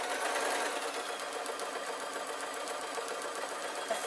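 Sewing machine stitching a lined waistcoat, a quick, even mechanical whirr that runs continuously at moderate volume with no talking.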